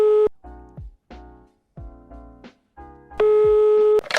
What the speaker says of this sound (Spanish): Parece que todavía está llamando.